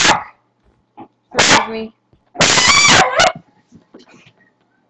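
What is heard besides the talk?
dog barking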